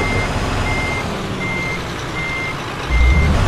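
Steady, evenly spaced reversing alarm beeps from a truck backing up in Scania Truck Driving Simulator, heard over a low engine rumble that grows louder near the end.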